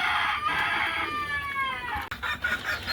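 At a desi poultry farm, a rooster crows loudly and close with long rising-falling calls while hens cluck and squawk around it in a busy, continuous chorus.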